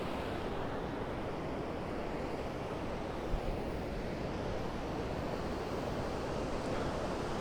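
Ocean waves break on a salt-water shore in a steady, dense roar with wind buffeting the microphone, continuous and fairly quiet throughout.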